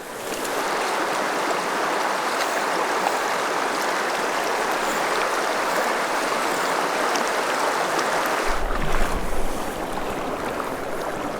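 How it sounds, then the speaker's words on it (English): A big waterfall at the head of a creek pool in the Bighorn Mountains roars as a steady, loud, broadband rush of falling water, continuous and unbroken throughout. "Big waterfall up at the head."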